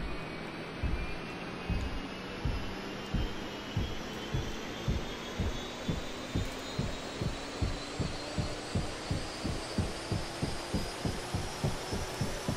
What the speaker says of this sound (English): Looking for rotor movement. Okay, good movement, and still got the RPMs coming up.